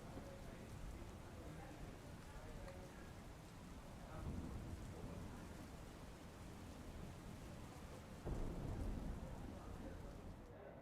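Steady, heavy rain pours down over Ahmedabad in a continuous dense hiss, with a couple of low rumbling swells of thunder partway through.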